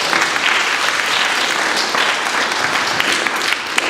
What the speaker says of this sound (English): Let's give him a hand.